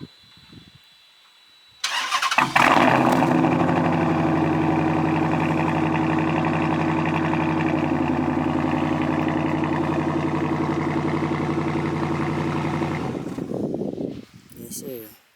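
A vehicle with an upgraded exhaust cranks and fires up, then holds a loud, steady engine note for about twelve seconds before shutting off.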